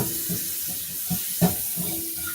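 Tap water runs in a steady hiss as a pan is rinsed, close and fairly quiet, with a few soft knocks and splashes from handling the pan.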